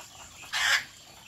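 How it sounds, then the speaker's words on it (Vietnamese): A red junglefowl hen gives a single short, loud burst of clucking while laying an egg, standing out clearly against quiet surroundings with no voices. "Con gà nó đẻ vào buổi chiều."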